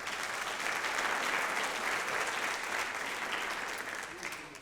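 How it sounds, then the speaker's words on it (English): A full round of applause at a community college district convocation, many hands clapping in a broad, even wash that tapers slightly at the end, with faint voices in the crowd. "Let's give yourself a round of applause."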